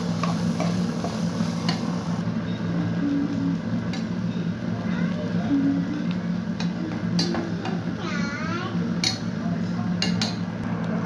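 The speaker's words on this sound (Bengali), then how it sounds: "নেড়ে চেড়ে সব একসাথে মিক্সড করে নেব।" Cooked rice being stirred and mixed in a pan for vegetable fried rice, with continuous close scraping and clinking of a utensil against the metal over a dense background hiss, fairly loud and steady.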